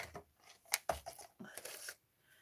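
Scissors snip through craft card pieces for a coffin-shaped gift box, a few short crisp cuts and rustles heard up close and fairly quiet, with no talking.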